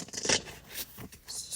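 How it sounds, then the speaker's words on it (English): Tarot cards are shuffled by hand in short, soft riffling and scraping bursts, close and quiet, with a few separate rustling strokes. "I have to shuffle 3 times."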